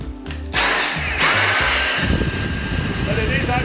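A Dyson V6 cordless vacuum cleaner switched to max mode jumps up with a rising motor whine into a loud, harsh, sustained roar, close up, with a voice briefly audible at the start.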